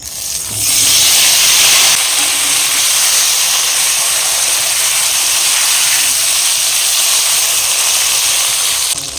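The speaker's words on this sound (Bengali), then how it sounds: "এই মাছ ভাজা তেলের মধ্যে একেবারে বেগুনগুলো দিয়ে ভেজে নেব।" Brinjal slices frying in hot mustard oil left over from frying hilsa fish: a loud, steady, dense sizzle that starts abruptly and holds evenly throughout.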